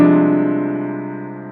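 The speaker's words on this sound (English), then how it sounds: "And on tremenda, we hear a chord, but it's ambiguous." A single sustained, ambiguous orchestral chord from Verdi's Libera Me, rich and unresolved, slowly fading over a second and a half.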